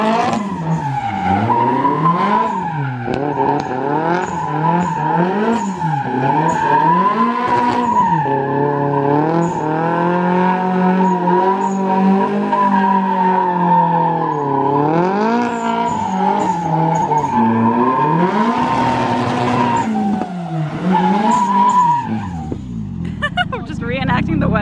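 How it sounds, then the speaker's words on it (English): A car spins repeated donuts on a grass lawn at a house, engine revving in long rising and falling waves with tire skid throughout, loud and close; voices and excited kids are heard over it. "I can't explain how honored I am that I was able to do a donut at the Atwood house"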